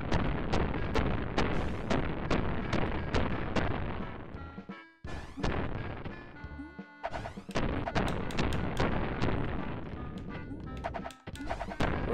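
Chiptune-style bursts and crashes from the SNES game Pinocchio, as a firework goes off amid dense game music: repeated sharp hits come in a rapid rhythm, loud and close, with two brief silent gaps.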